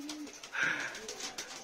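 Tumbler pigeon cooing close by, a brief soft coo rising over quiet background rustle.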